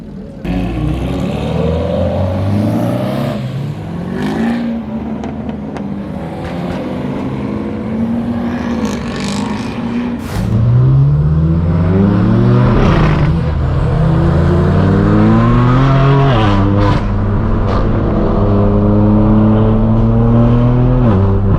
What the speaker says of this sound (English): That downshift was insane.